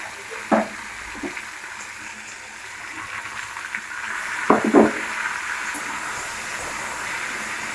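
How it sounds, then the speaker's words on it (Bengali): Food lightly frying in a pan, giving a low, steady sizzle with occasional stirring knocks and scrapes, close by, without any talk. "আমরা হালকা করে ভেজে নেব, বেশি ভাজার দরকার নেই আমাদের"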